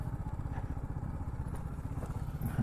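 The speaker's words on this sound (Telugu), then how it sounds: "సో బైక్ అయితే అటు పెడదాం" A motorcycle engine idles with a steady, close low putter while the bike is moved into a parking spot, with faint clatter near the end and no talk.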